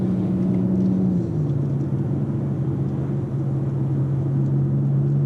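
Steady cabin drone of a 2019 BMW X4 M40i's B58 straight-six while driving, a low even engine hum with a slight pitch drop, no talk.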